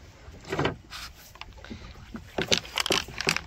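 Rowboat crossing a village canal, with irregular paddle splashes and knocks against the hull, some close and loud, clustering in quicker strokes toward the end, no talking.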